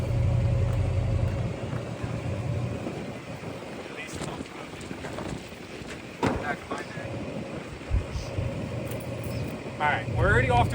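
A car engine with a leaking exhaust header runs with a low rumble that fades in and out, mixed with wind buffeting and people talking nearby.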